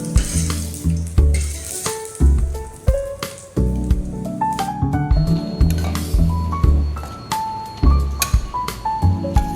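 Dosa batter sizzling loudly on a hot pan at home, a steady close frying hiss with crackles and occasional stirring or scraping, no talking.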